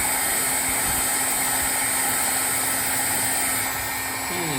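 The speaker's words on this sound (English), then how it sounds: "And turn on the heat gun" A heat gun blows hot air steadily, a loud, close, continuous whooshing hiss with a faint whine that holds through the whole stretch and eases slightly near the end.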